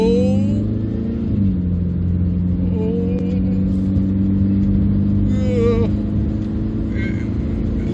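A 1985 Austin Maestro 1.6 pulling away from a standstill, its engine droning loud and close with a slowly rising tone, while someone talks over it.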